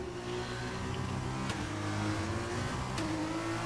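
Race car engine from the F2 2021 video game at the Singapore round, a steady, loud drone with layered harmonic tones and small pitch shifts, running alone throughout.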